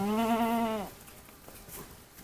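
A goat gives a single loud, close bleat lasting under a second, followed by quiet background.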